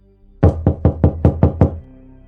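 Loud banging on a wooden door, six heavy evenly spaced thuds in quick succession, close and forceful, with no voices.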